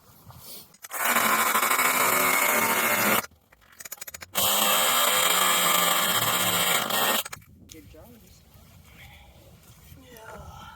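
A power tool saws a wooden pallet board in half outdoors: two long, loud, harsh runs of cutting noise separated by a brief pause, then the noise drops to quieter background.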